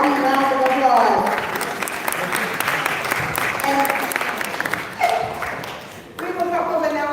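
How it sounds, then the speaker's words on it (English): An audience at a candidate event for the Court of Common Pleas breaks into sustained applause, with a speaker's voice heard over the clapping at the start and again near the end. "Give yourself a hearty round of applause"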